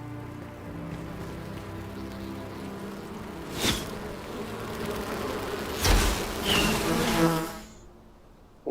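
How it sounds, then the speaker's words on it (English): Bees buzz steadily in the survival video game Enshrouded, a continuous droning hum with a few louder swells as the insects move closer, under a soft ambient background. "I hear bees over here"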